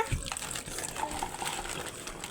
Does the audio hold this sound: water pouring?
yes